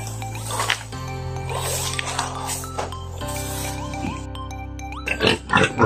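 Farm pigs in a muddy pen grunt and oink in a dense, overlapping chorus, with louder snorts and squeals bursting out near the end over a steady low rumble of machinery or noise.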